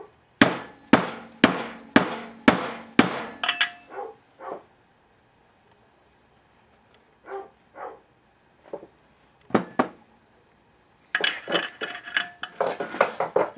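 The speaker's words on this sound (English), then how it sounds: "use the spanner" A spanner strikes and taps metal while working on a Husqvarna 288XP chainsaw oil pump: a run of sharp, evenly spaced clanks, then scattered clicks with pauses and a final cluster of rapid metallic rattling, all close.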